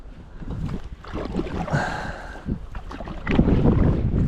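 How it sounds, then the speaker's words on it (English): Wind gusts over a lake during a solo boat trip, a rushing, buffeting roar against the microphone that swells and fades in waves, with light water and boat noise beneath. "There comes the wind."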